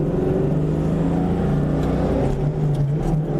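A cammed 2000 Ford Mustang GT fitted with full bolt-ons, heard from inside while driving: a loud, steady low engine drone with a lumpy rumble, no talk.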